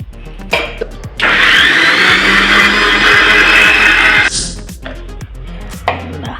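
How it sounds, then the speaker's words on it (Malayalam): A kitchen mixer grinder whirs loudly for about three seconds, grinding spice powder with water for beef curry, with clattering and knocks before and after the run. "ഈ പൊടിനെ നമുക്ക് ഒന്ന് മിക്സിയിലിട്ട് ചെറുതായിട്ടൊന്ന് കറക്കിയെടുക്കാം."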